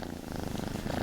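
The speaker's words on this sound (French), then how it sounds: "Tu les entends ronronner, regarde." Bengal kittens purr up close, a low, steady rumbling buzz with a quick regular pulse, filling the short stretch without any voices.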